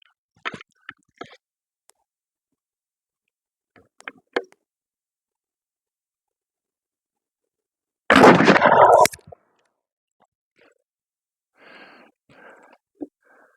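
A Pedersoli Indian trade gun fires once with a loud, roughly one-second blast, set among long quiet stretches with scattered small clicks and knocks before it and a faint rustle after.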